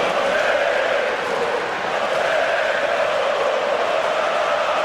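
Unhappy stadium crowd in the PES 6 football video game, a loud, unbroken roar of massed voices holding steady at close range with only a slight dip midway.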